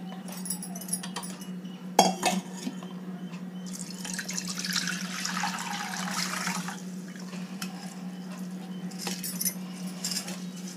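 Soaked basmati rice draining through a strainer for vegetable biryani, a steady close trickle and patter of water with a few light metallic clinks, louder rushing in the middle, no voices.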